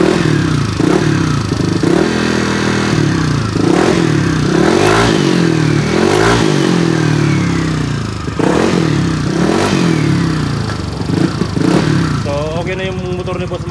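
A fuel-injected motorcycle engine runs loud and close, rising and falling through repeated revs with mechanical clatter, while someone talks over it.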